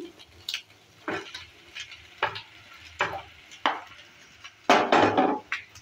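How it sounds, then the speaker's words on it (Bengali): Spring onion stalks, already fried, being stirred into fried egg in a pan, with repeated scraping stirs and soft sizzling at an irregular rhythm, close and moderately loud, with no talking. "এবার দিয়ে দিচ্ছি ভেজে রাখা পেঁয়াজকলি"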